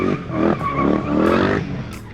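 A car drifting in a driver-training session using clutch, hydraulic handbrake and throttle, its engine revving loudly while the tyres skid and squeal continuously for a couple of seconds, close and alone.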